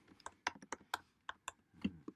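Quick clicking keystrokes on a computer keyboard, about a dozen sharp taps in an uneven rhythm, close and fairly quiet, with no talking.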